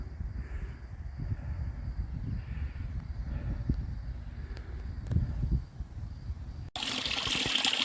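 Small trickling water source beside a hiking trail on the Appalachian Trail, a soft continuous gurgle close by, with a brighter rushing splash in the last second.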